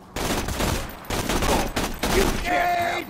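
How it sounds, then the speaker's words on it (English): Gunfire in Borderlands 2 rattles in rapid overlapping bursts, three dense volleys separated by brief gaps, loud and close, with a ringing electronic whine emerging near the end. "Getting shot at."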